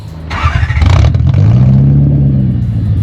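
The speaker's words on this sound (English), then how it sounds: "Seeing a car like this start up and have a beautiful V8 sound to it is just cool." A Toyota Supra with a swapped-in Lexus 3UZ V8 cranks and catches, then the deep V8 roars as it revs up and holds a loud, throaty idle, close by.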